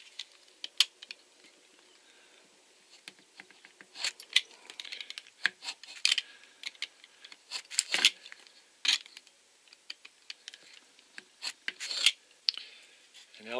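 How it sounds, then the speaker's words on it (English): Scissors trimming the edges of a homemade washer for a leaking toilet tap, a quiet series of irregular short snips and rasping cuts close by. "And I'm just going to trim the edges off."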